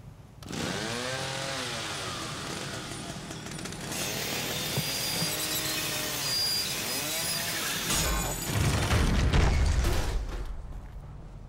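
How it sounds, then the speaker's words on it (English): A chainsaw in The Evil Within video game revs loud and steady for about eleven seconds, swelling into a harsher, heavier burst near the end, with no voices over it. "Okay, time to use this chainsaw."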